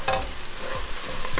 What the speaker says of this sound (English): my onions have been frying for just over 10 minutes